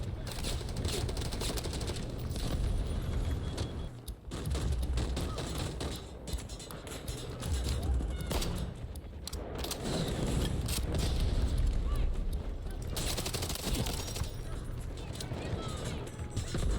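AK-12 gunfire in the video game Delta Force: sustained rapid automatic bursts crackle dense and loud with brief pauses between volleys, while a person talks over the shooting.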